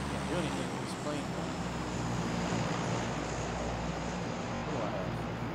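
An airplane flies in the PUBG video game, giving off a steady, droning engine roar with a continuous windy rush throughout, heard alongside speech.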